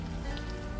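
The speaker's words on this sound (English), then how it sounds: "Back to the rainy streets of the East Village." Rain pours onto the streets of New York's East Village as a dense, even hiss with faint drips and patter scattered through it. It stays steady and close, and there are no voices.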